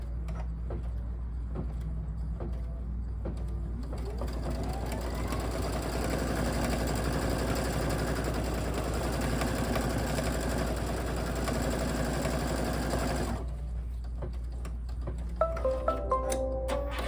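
An embroidery machine stitches a butterfly design in blue thread, its rapid rhythmic needle chatter starting after a few quiet seconds, running steadily for about ten seconds, then stopping, with a few soft clicks afterward.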